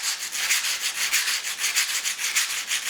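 Sandpaper rubbed in a steady rhythmic back-and-forth to imitate a moving train for a song, a bright hissing scrape repeating about four times a second, close and continuous with no voices.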